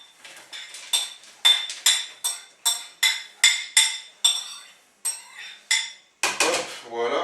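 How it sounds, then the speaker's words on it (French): Frozen red fruits and other ingredients are tipped into a blender jar as a run of about a dozen sharp, hard clatters, then a brief rattling tumble at the end. "Pareil, je passe tout sur le mixeur."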